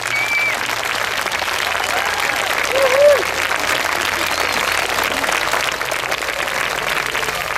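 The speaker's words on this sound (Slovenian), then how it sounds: "Verjamem, da si ta kvadrilja zasluži še en glasen aplavz," Loud audience applause follows a Lipizzaner horse quadrille riding display at a university anniversary event, sustained dense clapping from a crowd with a brief whistle partway through.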